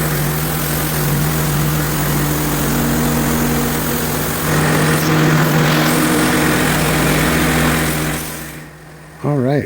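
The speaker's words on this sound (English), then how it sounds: "We'll start sawing it on the other side" A portable sawmill cuts through a maple log with a sustained, loud, droning engine and blade whine that holds steady for most of the stretch before dropping away near the end.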